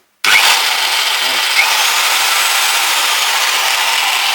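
After repair, an electric concrete vibrator plugged into a 220-volt socket starts at the press of a button and runs with a loud, steady, high-pitched mechanical whine and buzz that holds unchanged for several seconds, close and alone.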